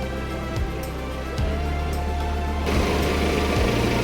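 A small buggy motors along a narrow village road in the Mekong Delta, its steady engine drone and rolling hum continuous and close, rising slightly in intensity partway through, with no talking.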